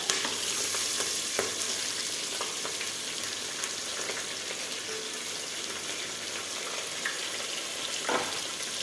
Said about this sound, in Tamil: நல்லா வதங்கிட்டு இனி வெங்காயம் போட்டுக்கலாம்